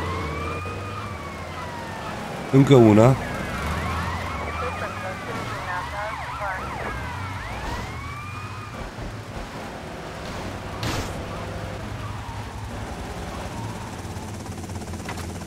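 Police car sirens wail in the GTA Vice City video game, rising and falling in overlapping sweeps over engine and traffic noise, loudest near the start, while someone speaks briefly.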